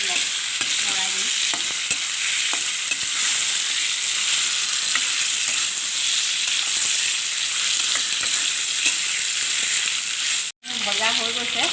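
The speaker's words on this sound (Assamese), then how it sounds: "এতিয়া তেজপাতটো দিলোঁ, দি এতিয়া মাংসটো দিম। ভালদৰে লৰাই দিম।" Meat frying with a bay leaf in a hot pan, a steady loud sizzle with stirring scrapes throughout, broken by one brief silent gap near the end.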